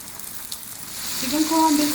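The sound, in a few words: flour-coated chicken pieces deep frying in oil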